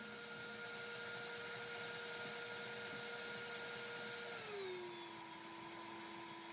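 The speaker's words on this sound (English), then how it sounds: "the mixer is on high speed, so it's going exceptionally fast" An electric mixer running on high speed whips cream into butter, a steady, high-pitched whirring whine that holds evenly and then drops lower in pitch as the cream separates.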